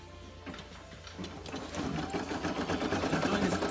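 A Brother PE 800 embroidery machine stitches a design on a tee, its rapid mechanical needle chatter steady and close, growing louder and busier partway through.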